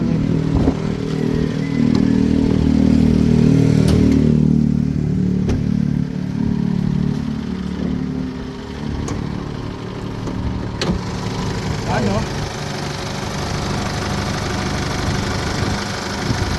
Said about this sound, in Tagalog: Kailangan lang din ng engine detailing, pero sa tunog niya, napakatahimik, napakaganda ng tunog niya.